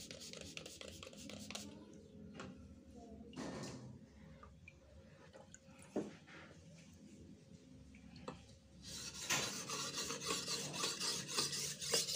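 A blunt machete is drawn across a corundum whetstone, giving repeated rasping strokes at close range, quiet passages between them and a denser burst of grinding toward the end.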